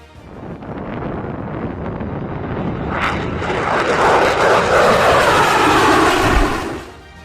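An F-16 fighter jet engine roars in a broad, rushing sweep, building from a steady rumble to a loud, dense peak before dropping away at the end, with no voices.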